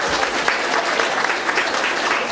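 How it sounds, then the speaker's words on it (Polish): A crowd applauding a team at a district sauerkraut-fermenting contest in Poland, steady full clapping from many hands throughout with no pauses. "Wielkie brawa dla drużyny."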